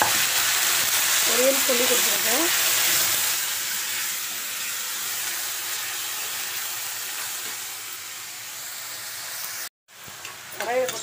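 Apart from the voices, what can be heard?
mustard seeds tempering in a hot pan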